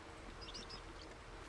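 Birds chirp in brief high tweets over a steady low ambient bed in Baldur's Gate 3, a few faint calls clustered mid-clip with no talking.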